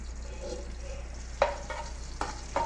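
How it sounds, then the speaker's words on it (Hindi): Chili powder and turmeric fry quietly in a pan for beef trotter curry, a faint low sizzle broken by a few light spoon scrapes near the end. "ये फ्राई होता है तो फिर आपसे मिलती हूँ मैं"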